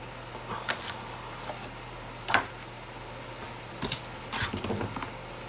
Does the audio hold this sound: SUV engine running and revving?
no